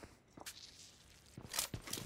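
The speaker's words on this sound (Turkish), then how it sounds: "Oğlum ben burada ayak sesi duyuyorum lan." Footsteps in the mobile battle-royale game PUBG Mobile: a handful of quick, soft steps with gritty scuffs, fairly close and uneven in rhythm, with no speech over them.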